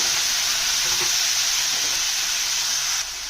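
Tomatoes and onions sizzle steadily in a pan over a slow flame, a bright, even hiss that holds for a few seconds before easing slightly at the end.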